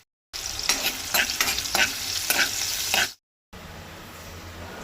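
Twenty garlic cloves drop into hot oil in a pan for a Goan yam-leaf bhaji, a loud close sizzle with rhythmic stirring scrapes, then a brief silence before a steadier, softer frying hiss resumes.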